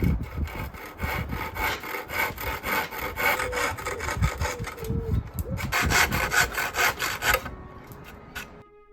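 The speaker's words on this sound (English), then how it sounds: "So with one of another of my new saws, a tenon saw, I shall do that." Tenon saw with fine teeth trimming wood on a dining chair under repair: a steady run of rhythmic rasping strokes, loud and close, pausing briefly midway before a final burst of sawing that stops near the end.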